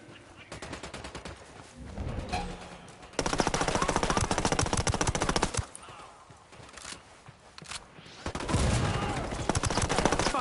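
Heavy automatic gunfire in the video game Ghost Recon Wildlands: dense, rapid bursts of shots rattling in waves, loud and close, with short gaps between volleys.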